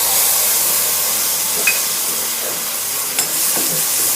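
Ginger paste fries in hot oil with cumin for ven pongal, making a continuous hissing sizzle, close and fairly loud, with a couple of brief scrapes of stirring.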